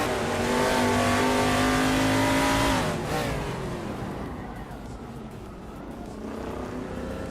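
Dodge Charger race cars roar past on a racing circuit, one loud engine note rising then dropping away after a close pass, leaving a quieter steady drone of other cars.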